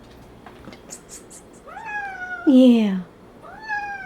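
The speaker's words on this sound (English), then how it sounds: "Are you a little cat?" A small cat meows repeatedly, several rising and falling cries with one louder, longer wail in the middle, close by, while a person speaks briefly.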